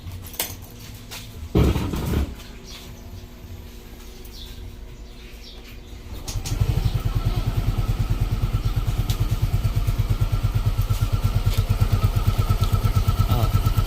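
A Yamaha Mio Gravis scooter engine starts up after a few faint clicks and settles into a steady, close idle that continues with a rapid, even putter.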